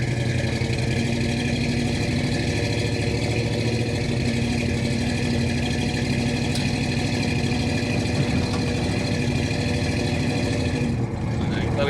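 The engine of a 1982 Chevrolet K10 Stepside 4x4 pickup idles steadily while warming up on a warm Texas day, a close, even, low rumble that holds throughout with a constant throb.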